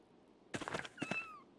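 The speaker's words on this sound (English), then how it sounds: "I heard a kitty." A short cat meow followed by a second, longer rising meow, fairly clear against a quiet background, from the video game Pentiment.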